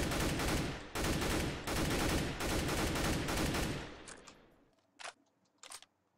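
Rapid automatic gunfire from the video game Counter-Strike: Global Offensive comes in four loud, close bursts, followed by fainter sharp clicks and a couple of brief isolated shots.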